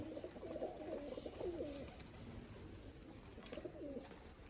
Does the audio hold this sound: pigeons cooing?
yes